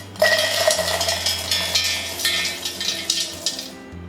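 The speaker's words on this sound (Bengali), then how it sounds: "বাদামের ছাল ছাড়ানো বাদামগুলো মিক্সিতে ঢেলে দেবো।" Skinned peanuts pour into a mixer grinder jar in a dense rattling clatter of small hard pieces, close, with a low hum beneath, the patter thinning toward the end.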